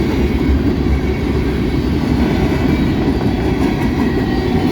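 A CSX mixed freight train with GP38-3 power and three-bay coal hoppers passes at night, a loud, continuous rumbling roll of wheels and cars close by, steady throughout.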